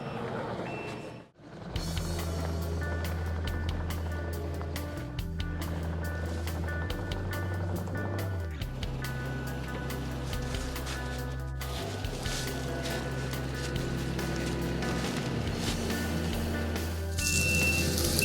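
Kubota compact track loader fitted with a Bradco brush cutter, its backup beeper sounding while the diesel engine rumbles steadily nearby, with engine pitch shifting as the machine works and no voices.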